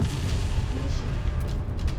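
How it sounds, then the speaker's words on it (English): Deep, rumbling booms roll continuously in a dense barrage in Resident Evil 2 Remake, like distant artillery or explosions, loud and steady throughout with no clear pauses. "Random explosions."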